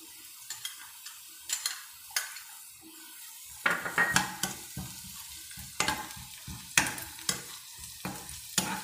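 Onion, ginger and garlic fry quietly in a pan with a soft sizzle, punctuated by repeated clinks and scrapes of a spoon stirring against the metal, with no talking.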